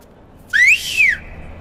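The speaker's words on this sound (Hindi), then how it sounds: "मैं सीटी भी नहीं मार सकता" A person whistles a short two-part tune, a rising note and then a falling one, loud and close against a quiet background.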